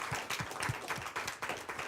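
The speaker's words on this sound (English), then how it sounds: "So a round of applause to our wise men and women here." An audience applauds, with rhythmic hand claps close together that repeat steadily for two seconds at a moderate, fairly quiet level.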